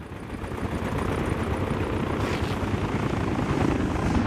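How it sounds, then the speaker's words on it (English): Rotor chop and engine drone come from helicopters circling in Workers & Resources: Soviet Republic, a continuous, fairly loud pulsing hum that stays steady without voices. "There are helicopters around."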